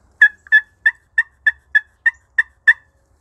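Nine evenly spaced turkey yelps scraped from a slate turkey call, crisp and close, each a short rasping note with a steady rhythm and no talking.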